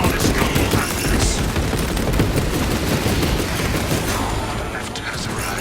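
A servo harness gun firing in the game Space Marine 2, a dense rapid barrage of loud gunfire bursts rattling continuously and tapering slightly near the end.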